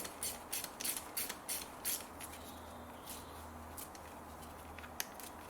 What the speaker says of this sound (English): Just using a T30 to remove 2 screws here.